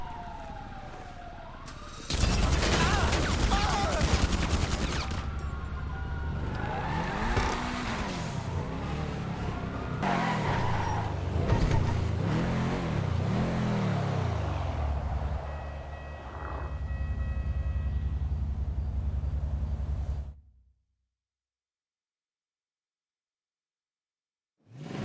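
Car driving in GTA 5 Online during a Los Santos Tuners delivery run back to the auto shop, engine droning loud and steady with police sirens wailing over it for about twenty seconds before cutting to silence.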